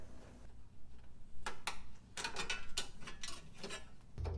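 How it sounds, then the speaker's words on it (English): A Torx T25 driver ratchets and clicks while undoing screws on an Audi deck lid cover, a close series of quick mechanical ticks with no talk. "I first removed the left side metal cover on the deck lid, which have two T25 torque screws and one 10mm nut"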